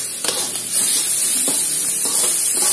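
Ginger, turmeric, galangal and lemongrass sautéing in hot oil for Manado-style chicken, a loud continuous sizzle and hiss, broken by several soft scraping stirs.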